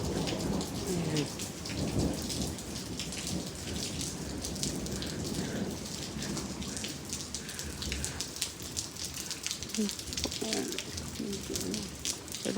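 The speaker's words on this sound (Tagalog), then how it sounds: "Lakas ng kulog." Heavy rain pours steadily onto surfaces while thunder rolls and rumbles through the downpour, a dense, constant wash of drops with deeper booms rising beneath it.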